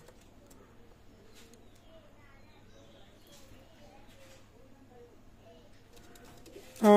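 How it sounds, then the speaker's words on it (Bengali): Rampuri pigeons of a Pakistani bloodline coo softly in soft, repeated low calls under a voice, ending in a loud burst of sound at the very end. "মাশাল্লাহ কবুতর রামপুরি, পাকিস্তানি ব্লাড লাইন কবুতর, রামপুরি কবুতর"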